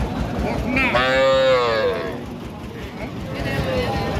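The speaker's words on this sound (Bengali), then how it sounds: "বকনা গরু" A young heifer gives one long, drawn-out moo in the middle, loud and close, over a steady background of crowd chatter and noise at a cattle market in Setabganj, Dinajpur.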